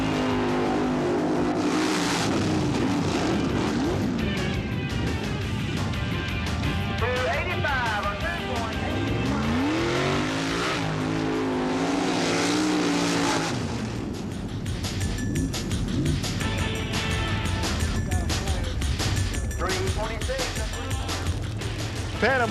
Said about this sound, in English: Orlando, Florida's Mike Atkins in his rear-engine dragster called Stinger.